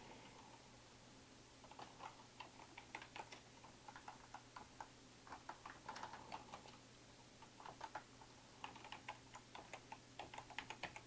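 Someone types on a computer keyboard in quiet, uneven bursts of light key clicks with short pauses, close by under a faint steady hum, and nobody speaks.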